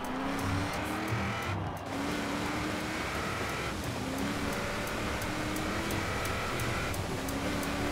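A tricked-out Honda NSX race car launches at the start of a custom race route in Forza Horizon 4. The engine drones loud and steady, with rising gear whines and brief tire chirps. Nothing else is heard.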